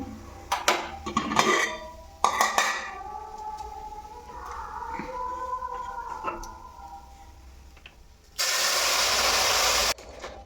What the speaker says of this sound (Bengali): আমার জলটাও একদম গরম হয়ে গেছে এবার জলটা ঢেলে দেবো